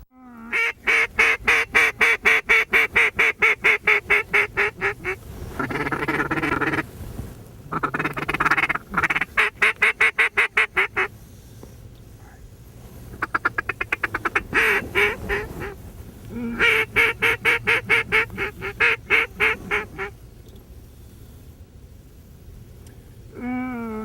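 Ducks quack at freezing flooded timber ponds, in rapid rhythmic runs of loud, nasal calls that repeat in bursts with brief pauses between them.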